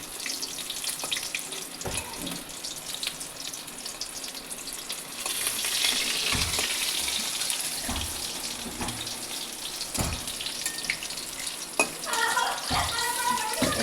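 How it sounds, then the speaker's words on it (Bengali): Chicken pakora frying in oil gives a loud, continuous crackling sizzle up close, broken by occasional scraping clicks as the pieces are turned. "এক পিঠ ভাজা হয়ে গেছে, এবার আর এক পিঠ উল্টে নেব।"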